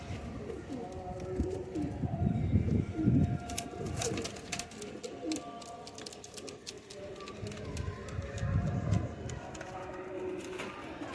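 Young teddy and golden mix pigeons coo softly in a loft, low repeated cooing in several bursts with faint rustling and scattered small clicks, close by.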